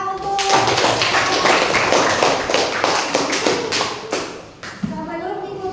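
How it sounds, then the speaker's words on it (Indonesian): A class of students claps hands together in a dense, sustained burst of applause lasting several seconds, with some voices mixed in before it fades out. "Tepuk tangan untuk"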